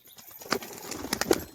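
Female pigeon flapping its wings, a few soft quick flutters and rustles, close and faint, no talk.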